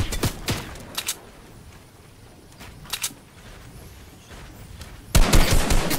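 Video game gunfire in a Fortnite trios match: a few sharp shots near the start and around the three-second mark, then a loud rapid burst near the end, with quiet gaps between.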